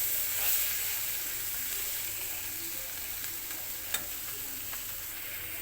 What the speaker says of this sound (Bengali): এটাকে আমি আর 2 মিনিট রান্না করে নেব